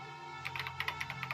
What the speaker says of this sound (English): The only sound was the flat, precise clicking of keys as Kyoko typed